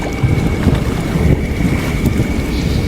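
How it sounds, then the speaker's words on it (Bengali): Loud, blustery wind roars and buffets close up, a constant low rush with surging gusts and no voices. "চারপাশ থেকে দমকা হাওয়া দিতে শুরু করল"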